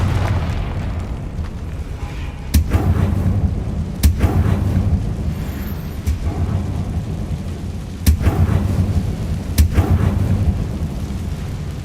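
A fiery Confringo spell goes off repeatedly in Hogwarts Legacy, producing several sharp explosive booms a second or two apart over a continuous low rumbling game background, loud and close.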